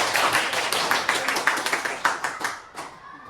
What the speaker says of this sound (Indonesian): Oke, tepuk tangan dulu buat kalian.